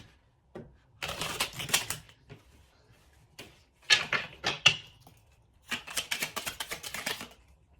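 Oracle cards being pulled and handled, giving soft papery clicks and riffling bursts in a few irregular clusters, close and fairly quiet, with no talking.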